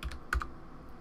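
A few quick keystrokes on a computer keyboard enter a short number, close and clear, with no voice.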